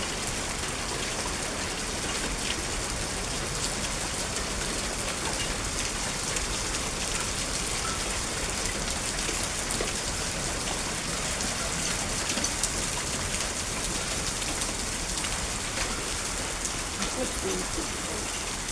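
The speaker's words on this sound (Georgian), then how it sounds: "ჭექა ქუხილიცა სეტყვაცა წვიმაცა ყველაფერია ერთად" Heavy rain drumming steadily on surfaces with small hailstones mixed in, a dense, continuous close wash of hiss and patter that stays even throughout, with no distinct thunder rumble standing out.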